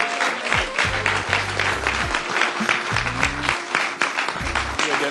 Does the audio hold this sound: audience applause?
yes